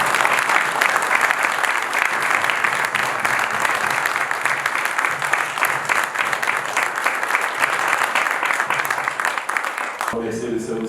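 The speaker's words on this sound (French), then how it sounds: "Des applaudissements pour eux, s'il vous plaît." A crowd at a municipal installation ceremony in Saint-Josse, Brussels, applauds the commune's staff with loud, sustained clapping that fills the hall and cuts off abruptly near the end, with voices mixed in.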